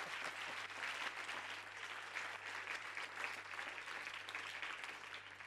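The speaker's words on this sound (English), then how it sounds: "Give him a round of applause, folks." Conference audience at a plenary session gives sustained, even applause, a steady wash of many hands clapping that fills the whole stretch without letting up.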